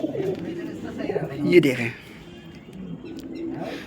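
Pigeons cooing nearby in soft, rounded calls that rise and fall, heard under and around a man's speech.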